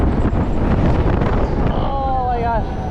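Strong wind buffets the microphone with a loud, steady roar on a Kraken fair ride at night, with rushing air noise throughout and a brief high whistling tone near the end.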